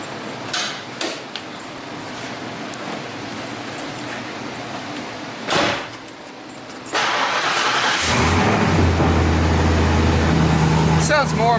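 A Ford Thunderbird fitted with a new exhaust cranks and fires up, then idles with a steady, loud, deep rumble close by, after a few earlier clanks and knocks.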